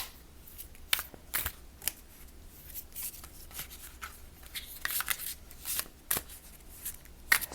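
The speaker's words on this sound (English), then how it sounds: "Gotta shuffle again" Quiet riffling and soft slapping of tarot cards being shuffled by hand, in repeated short bursts with no talking.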